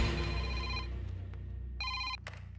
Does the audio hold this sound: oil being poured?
no